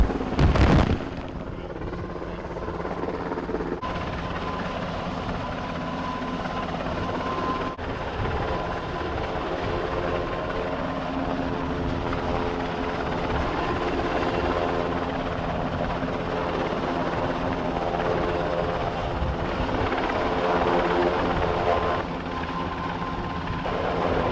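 Loud, continuous thudding rotor noise of a rescue helicopter hovering close overhead during lifeboat training, steady throughout with a sharp bang at the very start.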